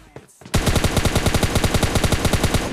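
Rapid automatic gunfire in the mobile battle-royale game PUBG Mobile Lite bursts in loud and close after a brief quieter lead-in, then continues as a fast, even stream of shots.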